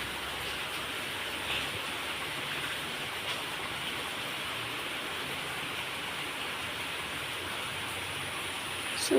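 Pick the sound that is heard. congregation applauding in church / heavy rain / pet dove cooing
heavy rain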